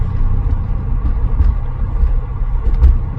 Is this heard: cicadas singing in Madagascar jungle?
no